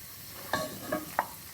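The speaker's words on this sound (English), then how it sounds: "I'm going to add my onion into the pan. I'm going to give it a little stir" Chopped onion gets stirred in melted butter in a pan, a faint low sizzle broken by three soft scraping strokes of the spoon, close and quiet.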